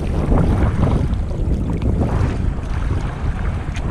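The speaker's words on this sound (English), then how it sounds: "Paddling straight into the wind." Strong wind blasts a fishing kayak heading straight into it off Hawaii, a loud continuous roar of buffeting microphone noise mixed with rushing water and no let-up.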